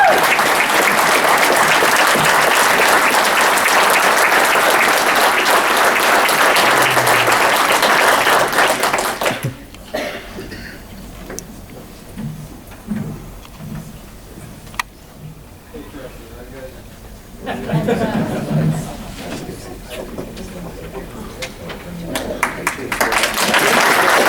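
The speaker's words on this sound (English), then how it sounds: "Let's give him a round of applause." An audience at a Voice of Democracy awards ceremony gives a winner a loud round of applause, thick sustained clapping for about ten seconds, then it cuts off into quieter room sounds and scattered speech before clapping swells again near the end.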